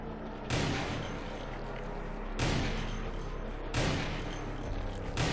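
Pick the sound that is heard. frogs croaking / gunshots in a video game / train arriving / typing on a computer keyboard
gunshots in a video game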